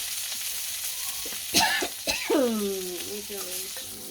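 Food frying in a pan in a village kitchen, a soft sizzle with a few stirring clatters, followed by a person coughing and clearing their throat nearby.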